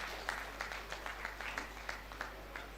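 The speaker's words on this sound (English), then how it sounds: "Please, a round of applause for our Vice Chancellor" An audience at a university convocation ceremony applauds the Vice Chancellor, a faint, steady patter of scattered clapping with individual hand claps standing out over a low hum, heard from a distance.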